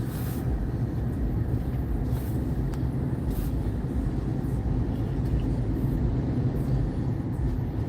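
A 2021 Tesla Model Y with 72,000 miles on it cruises along a road, a steady broadband rumble of tire and road noise heard from inside the cabin with no talking.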